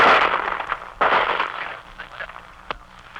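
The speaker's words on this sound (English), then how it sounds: "Can you hear that sound? Those, my friends, are bullets." Bursts of gunfire crack through a crackly 1944 wartime field recording of the Marine invasion of Kwajalein, with a loud onset, another strong burst a second later, and a sharp distant report near the end.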